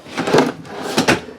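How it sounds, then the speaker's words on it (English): A self-closing drawer in a 2021 Riverstone 3950FWK RV slides shut: two close, sharp wooden knocking bursts about half a second apart, with no talking. "This has a self-closing drawers too."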